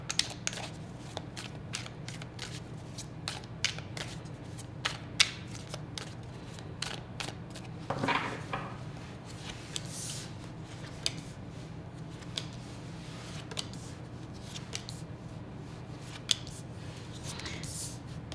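Tarot cards are shuffled and drawn in a reading, giving rapid, continuous riffling flicks and snaps. The sound is close and steady, over a low background hum.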